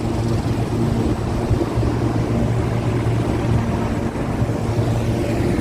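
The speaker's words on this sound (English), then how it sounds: "That's a helicopter there. Yeah, it's a heliport." A helicopter flies near the heliport at 34th Street and FDR Drive in Manhattan, a steady low rotor drone blended with dense city traffic noise, continuous and fairly loud throughout with no voices.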